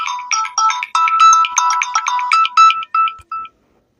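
An incoming call's ringtone from a mobile phone, a bright, rapid chirping electronic melody of short repeated notes, loud and close, that stops after a few seconds into silence.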